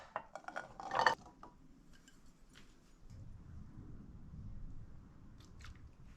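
Fresh cranberries tipped into a cooking pot make a quick rattling, pattering clatter that peaks for about a second, then fade into quieter rustling and faint kitchen background noise.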